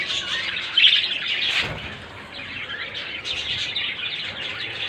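A pair of pet spangle budgerigars, a yellow-green male and a female, chirp and twitter continuously at close range, with a brief louder flutter near the start.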